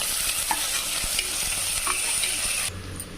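Loud, close sizzling of onions and chillies sautéing in a pan for tomato rice, a dense continuous hiss with small pops, easing slightly near the end.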